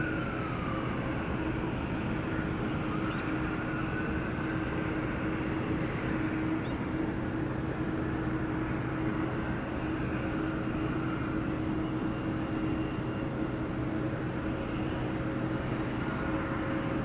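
A Boeing 787 Dreamliner jet departing San Francisco, bound for Xiamen, gives a steady, sustained engine roar with a faint whine that persists unbroken throughout, heard from a distance.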